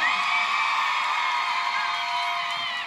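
A concert crowd at a show in La Villa del Rosario roars and cheers continuously, a dense, loud wall of shouting voices held for a few seconds with no single speaker standing out.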